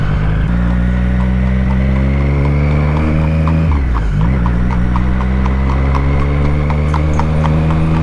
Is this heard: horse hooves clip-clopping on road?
yes